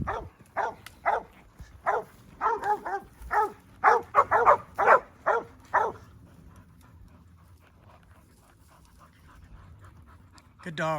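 Cattle dogs bark in quick bursts for several seconds while chasing a cow, loud and close, then fall quiet, leaving faint panting and rustling.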